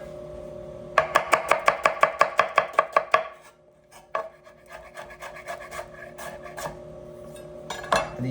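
Kitchen knife chopping onions into thin julienne strips on a cutting board, a quick rhythmic run of about a dozen close crisp strokes, then a pause and scattered slower cuts.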